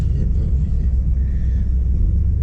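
A 1968 Dodge Super Bee engine idles steadily in a garage, a deep continuous low rumble that stays even and fairly loud without any talk.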